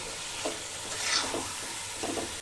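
Minced meat and marinated chicken being stir-fried in a pan, giving a soft, steady sizzle with a few gentle scrapes of the spatula, faint and close.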